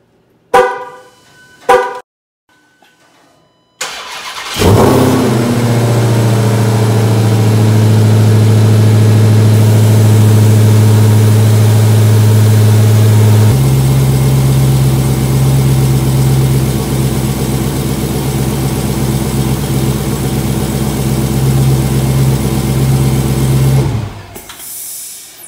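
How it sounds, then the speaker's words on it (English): A car engine in a garage cranks after a couple of sharp clicks, then fires and settles into a loud, steady close idle that shifts tone partway through and continues for about twenty seconds before cutting off. "Let's open the garage and start her up."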